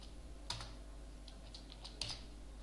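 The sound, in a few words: typing C++ code on computer keyboard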